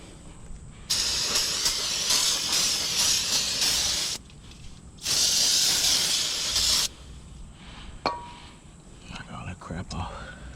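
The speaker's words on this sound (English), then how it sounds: "Brake clean." Brake cleaner sprays onto the rear brakes of a 2014 Nissan Altima in two loud, steady hissing bursts of about three and two seconds, followed by a few light metallic clinks.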